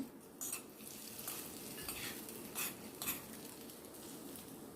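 Coconut-oil tempering for a raw mango chutney sizzles in a steady, close crackle, with a few sharper pops and clinks of a spoon stirring the pan.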